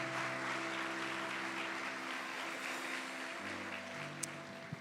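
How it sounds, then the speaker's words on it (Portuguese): A church congregation claps hands in praise during a worship service, a steady dense wash of applause filling the room while sustained music tones continue underneath. "Você pode louvar o Senhor Jesus com as suas palmas"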